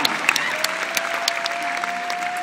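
Audience applause fills a large Passion World Tour 2010 event hall in Vancouver, a steady dense clapping from a big crowd that holds at an even level from start to finish, with no voices over it.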